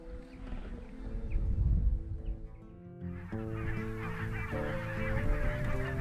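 Wild geese on the East Frisian coast in winter, a flock giving many overlapping honking calls at moderate distance, building into a dense continuous chorus with no talk.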